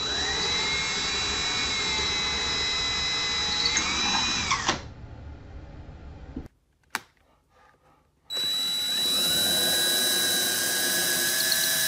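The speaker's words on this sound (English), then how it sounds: "I'm going to brace this and hold this as tightly as I can, and we're going to drill a pilot hole" A power drill whines steadily while boring a pilot hole for a window treatment rod, stops briefly with a few clicks, then spins up again loud and close.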